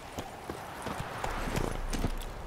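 A summoned horse in The Witcher 3 trots up with rhythmic clip-clopping hooves, a steady patter of hoofbeats over a low background hum, with no voices.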